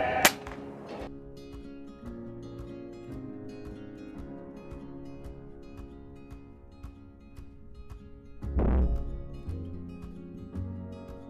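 A single sharp crack from a Uragan compact air rifle fired outdoors at a pigeon roughly 30 meters off, near and loud against quiet ambience, followed by a second dull thump a few seconds later.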